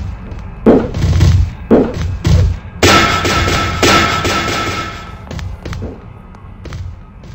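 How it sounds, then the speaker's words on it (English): Dynamite goes off in the wrestling-style video game MDickie's School Days, a series of heavy booming thuds followed by a loud crackling burst that decays, with smaller impacts trailing after it. "Oh, dynamite!"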